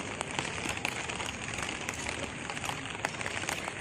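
Steady rain pours down outdoors, a dense continuous hiss with scattered droplet ticks, heard alone without any voices.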